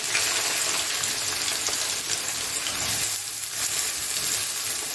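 Onion and garlic sizzle in hot oil in a pan, a dense, continuous crackling hiss with faint stirring, loud and close with no voices.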